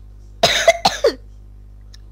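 A child's dry cough, four quick rough bursts in a row from close by, then a short pause and the start of another in a quiet room.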